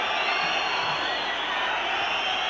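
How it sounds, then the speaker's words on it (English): A football stadium crowd in 1988 waits for the final whistle, making a continuous, dense roar of massed voices that holds steady and fairly loud without distinct cheers. "Crowd willing the final whistle."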